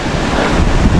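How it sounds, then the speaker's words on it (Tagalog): Strong wind blasting across a microphone outdoors, a loud, continuous roaring rumble with no break, swamping everything else. "grabe, sobrang hangin, no?"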